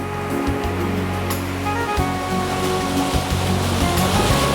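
Waves wash steadily through a beachside wave pool at a lavish African leisure park, a continuous broad surf roar with no talking.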